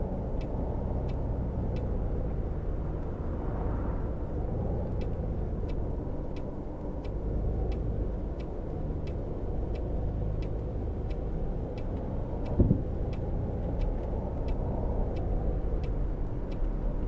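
A rear-engined bus in Tourist Bus Simulator on PS5 idles in a steady low rumble, with faint regular ticking above it and one brief knock partway through.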